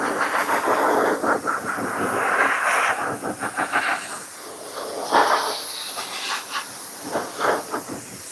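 An air blower drying a car tire ahead of a car show: a steady close hiss of rushing air that surges and dips in short bursts, with no talking.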